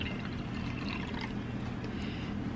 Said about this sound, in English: I have to take a half a cup of beef broth